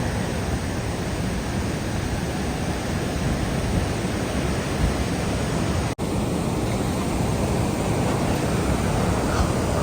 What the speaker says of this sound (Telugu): ఫుల్ వాటర్ ఫ్లో అయితే ఉంది.